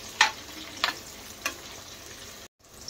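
Onion and bay leaf sauté in a pan for veg pulao. Three short stirring scrapes rise above a faint, quiet sizzle, then the sound cuts out briefly.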